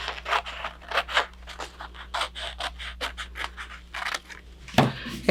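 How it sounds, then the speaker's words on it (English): Scissors cutting through paper in a string of quick, rapid snips, fairly close and steady, with a brief handling clatter near the end. "I'll just get my scissors and cut that out."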